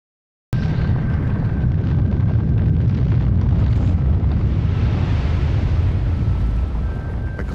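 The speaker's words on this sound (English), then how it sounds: "while a volcano's going off in front of him" Erupting volcano heard as a loud, continuous roaring rumble with wind-buffeted booming, starting abruptly after a moment of silence and holding steady to the end.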